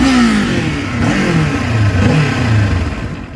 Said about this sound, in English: The exhaust sound is deeper and more pleasing.